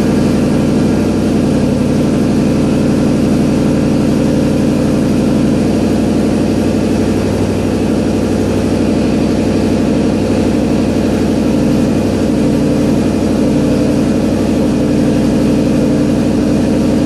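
A Ford Fairmont engine idling after a cold start at about 32 degrees coolant temperature, giving a loud, steady, low rumble that holds unchanged throughout with no talk.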